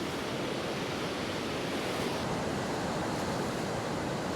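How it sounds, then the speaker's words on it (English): Waves crash and surge through a blowhole at Godrevy, a steady dense roar of churning water that stays loud and unbroken throughout, with no voices. "the waves crashing in and surging up through the blowhole"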